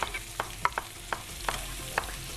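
Short scraping stirs repeat every half second or so over a low, steady sizzle of onions frying in a pan, close by with no voices.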